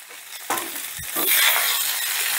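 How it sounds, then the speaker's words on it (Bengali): About 50 grams of washed, drained mung dal is stirred into bottle gourd greens frying in a pan. A steady sizzle runs throughout, broken by scraping, clattering stirs, with one low knock near the middle. "মিনিট খানিক নাড়াচাড়া করেই আমি দিয়ে দিচ্ছি মুগ ডাল"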